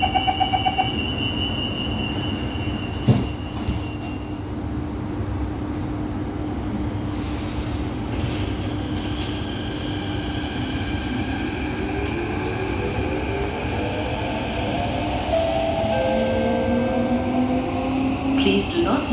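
A 2004 Kawasaki Heavy Industries CRRC Sifang CT251 metro train runs between stations, a loud steady rumble with rising and falling motor whine and occasional clanks, plus electronic tones and a brief announcement near the end.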